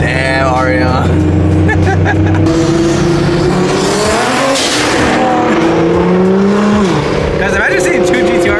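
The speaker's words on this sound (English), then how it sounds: "Oh my god, you just drifted the GTR." Nissan GTR drifting: a loud, close engine roar rising and falling in pitch, with a squealing, sliding tire whine running through the middle before the revs pick up again.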